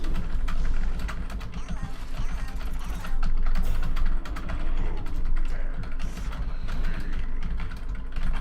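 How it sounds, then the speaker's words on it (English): Steady, rapid typing on a computer keyboard runs throughout at close range, with dense clicking keystrokes over a faint background hum and no clear pauses. "apologies for the little typing"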